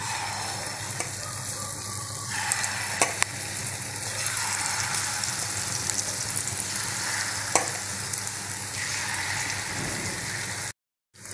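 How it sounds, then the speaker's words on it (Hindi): Pakoras fry in hot oil in a kadai, giving a steady, loud bubbling sizzle with occasional crackles that runs unbroken before cutting off abruptly near the end. "अब हम इसमें पकौड़े डाल देते हैं।"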